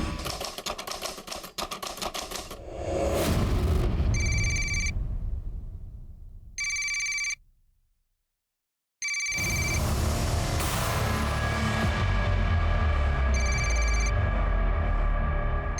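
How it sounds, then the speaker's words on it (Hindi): A telephone rings in short repeated bursts separated by pauses, with busy background noise before and after the rings. "कब से फोन बज रहा है"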